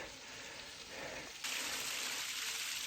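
Small waterfall beside a mountain trail on the Appalachian Trail, heard as a soft continuous rush of splashing water that grows fuller and brighter partway through, with no talking.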